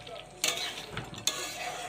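Onion paste stirred into chicken frying in a pan: a soft, steady sizzle with two quick scraping clinks of the spoon against the pan, close by, with no talking.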